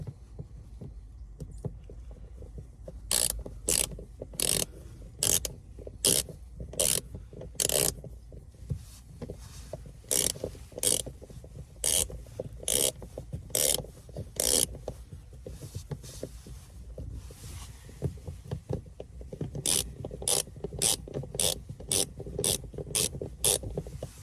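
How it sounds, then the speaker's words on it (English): Screws being driven into a Toyota 4Runner rear storage cover, heard as a close series of quick ratcheting clicks in separate bursts with short pauses, over a low steady hum and no talking. "So now I just gotta screw these in."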